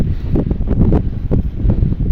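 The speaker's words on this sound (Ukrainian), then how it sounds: "Ну як отакий буде вітрюган, так я й не знаю, моя й капуста вся полетить за вітром" Strong gusty wind roars steadily outdoors in a village vegetable garden, buffeting the microphone with a loud, continuous rumble that rises and falls.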